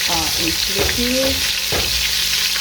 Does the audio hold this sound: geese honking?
no